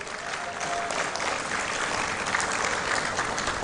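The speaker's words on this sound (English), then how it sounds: "Ladies and gentlemen, a round of applause." A conference audience at a Uganda–Kenya coast tourism event applauds the host ambassador, a sustained, even round of clapping from many hands filling the room for several seconds without interruption.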